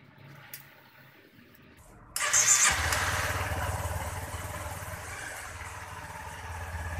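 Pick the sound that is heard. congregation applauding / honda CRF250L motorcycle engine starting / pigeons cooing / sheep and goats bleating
honda CRF250L motorcycle engine starting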